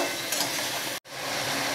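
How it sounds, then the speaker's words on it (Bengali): Potatoes and spices stir-fried in a pan for a maida dhokla recipe, a steady close sizzle with scraping stirs. It runs continuously except for a brief silent break midway, and no voice is heard. "এবার মশলা দিয়ে ভালো করে আলুর সঙ্গে কষিয়ে নেব।"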